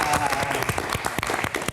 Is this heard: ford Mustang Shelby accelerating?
no